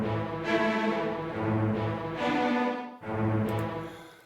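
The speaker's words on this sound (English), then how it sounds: "I went into another string ensemble, and I used what's called the string ensemble tremolo, intimate tremolo" A Magix Music Maker string ensemble tremolo on the intimate tremolo preset gives a full, shimmering orchestral swell, played as several sustained chords with a brief break near the end, heard alone and fairly loud.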